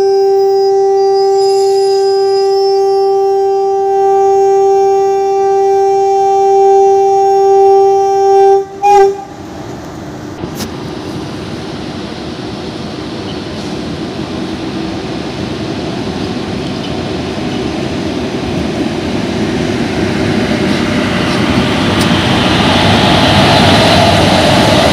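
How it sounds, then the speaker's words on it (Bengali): A WAP4 electric locomotive sounds a long, loud, steady horn as the Asansol–Haldia Express pulls out of a station, then the rumble and clatter of the moving coaches swell and build. "এই আসানসোল হলদিয়া এক্সপ্রেসটা একটু স্টেশন থেকে ছাড়বে, ডিপার্চার নেবে।"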